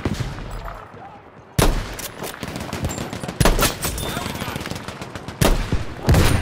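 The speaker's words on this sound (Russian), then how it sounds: "Это пулемет автоматом садит." Rapid bursts of automatic machine-gun fire in Battlefield V, loud and sharp, repeating in clusters over a noisy game background.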